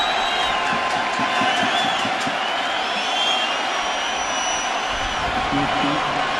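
A stadium crowd buzzes steadily at a 1999 World Series game between the Braves and Yankees, a dense, continuous murmur with faint whoops rising through it and a commentator's voice running over the top.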